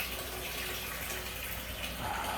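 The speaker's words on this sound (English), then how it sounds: "Trying to fill up this tank right now by putting water in that tank" Water from a pump pours into a tank with a steady, soft rushing and splashing, faint and continuous throughout.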